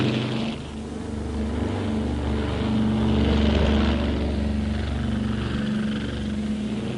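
WWII bomber aircraft engines of the 11th Air Force over the Aleutians drone in a loud, continuous propeller roar that swells and eases slightly throughout, with no speech.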